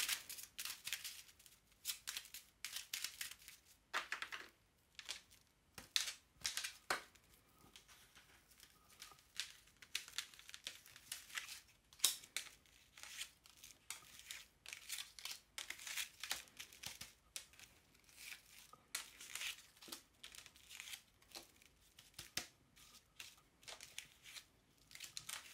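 Oracle Belline cards being shuffled, a long run of quiet crisp riffling and slapping bursts, irregular and close, with no talk.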